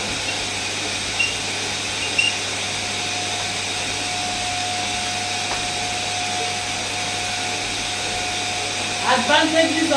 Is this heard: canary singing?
no